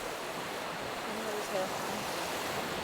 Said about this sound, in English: The river's not too loud here